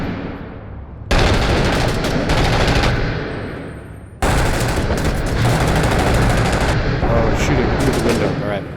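Sustained rapid gunfire in a war video game, shots fired through a window in two long loud bursts with dense crackling reports, a speaking voice faintly underneath.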